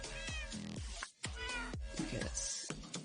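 A cluster of cats in the Minecraft video game meows in rapid succession, many close, bright calls layered together with brief gaps, loud and continuous without speech.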